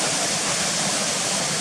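Waterfalls at Swinnergill near Gunnerside pour in a steady, broadband rush, close and loud, an unbroken wash of falling water with no other sound over it.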